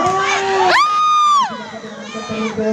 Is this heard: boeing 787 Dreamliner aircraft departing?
no